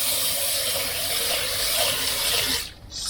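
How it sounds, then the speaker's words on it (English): Rice is washed by hand under running water at a kitchen sink, a steady loud splashing and rushing stream that stops abruptly near the end, with no talking. "Wash the rice. Very dirty."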